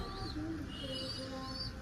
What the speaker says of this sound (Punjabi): ਚੱਲਦੇ ਹੁਣ ਮਿੱਤਰੋ ਉੱਪਰ ਦੇਖਣ ਕਬੂਤਰ